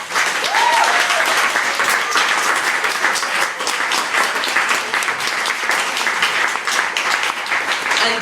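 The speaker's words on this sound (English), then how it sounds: "can we please give a big round of applause for Wood once again?" An audience gives loud, sustained applause after a reading at a salon event, steady dense clapping that fills the whole stretch without letting up.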